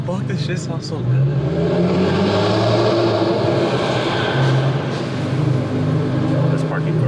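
Loud, echoing exhaust revs from an Infiniti Q50 Red Sport in a parking garage, the engine note rising and holding in repeated surges while voices chatter over it.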